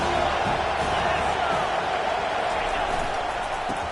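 Football stadium crowd roaring behind the defense on a big third down, a dense, steady wall of cheering with a commentator talking over it.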